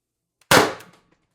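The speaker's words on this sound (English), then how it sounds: "Third mag, second shot." A single sharp report from an Umarex TR50 CO2 air rifle, fitted with a tuning barrel extension and running on a 90-gram CO2 cylinder, rings out close and loud, then decays quickly into silence.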